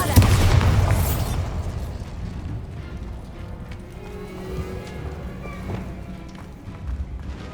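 Bombarda explosion spell cast in Hogwarts Legacy, a loud booming blast at the start that decays into a rumbling, crackling tail with scattered impacts.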